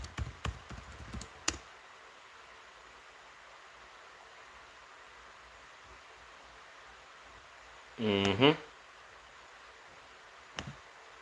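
A computer keyboard is typed on in a quick close flurry of clicks at the start and a few isolated taps later, with a short buzzing burst in between in an otherwise quiet room.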